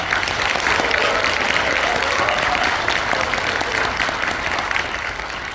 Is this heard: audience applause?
yes